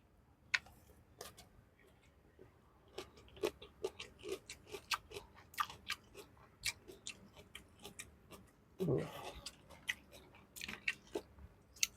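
Close, quiet crunching and biting of crispy fried chicken (ayam gepuk), irregular sharp crackles spread across the clip with brief pauses between bites, no talking.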